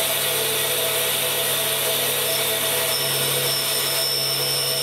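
A grinding machine runs steadily as it grinds an extra fine pitch tap, a continuous loud whine and hiss with a low motor hum and no pauses.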